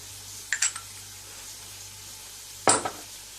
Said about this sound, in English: Add ginger and garlic paste, and also the green chilies.